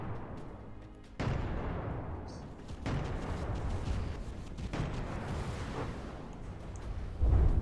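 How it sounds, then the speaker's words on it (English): A barge in a space combat video game firing its guns into itself, heard as a dense, roaring barrage of booming shots and blasts that swells in repeated loud waves. "Barge firing into itself."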